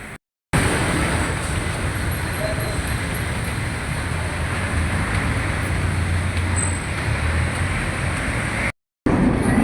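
Busy street traffic in central Manila near EDSA and the rapid rail, a loud steady roar of engines and road noise with no clear individual vehicles, broken briefly at the start and end.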